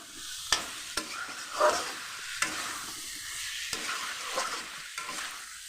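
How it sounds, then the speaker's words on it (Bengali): Jackfruit curry sautéed in a pan, with a soft steady sizzle and several sharp scrapes and clacks of a spoon stirring against the metal, close and clear with no talking. "কষাইব তারপরে জল দিব"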